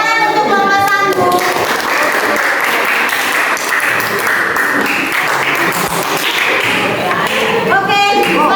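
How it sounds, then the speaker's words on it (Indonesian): Loud, sustained applause for group 1 after a teacher-training performance presentation in a classroom, many hands clapping continuously at close range, with a brief musical chime at the start and end. "Tepuk tangan untuk kelompok 1."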